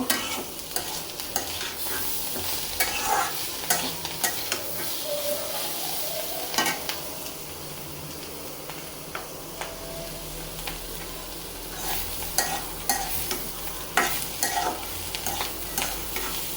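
Shing fish curry with potatoes cooks in a pan, a continuous sizzle broken by repeated scraping and clinking strokes of a stirring utensil against the pot, with no speech.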